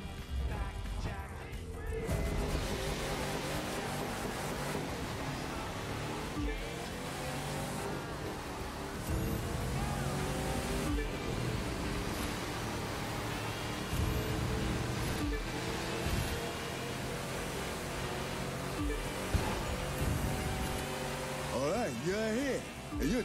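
A Cadillac Cyclone XP-74 concept car races in The Crew 2, its engine droning continuously with shifting pitch, punctuated by mechanical clunks and occasional impact thuds throughout a long, unbroken run.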